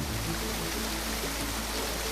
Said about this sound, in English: there is a waterfall here that's a fun addition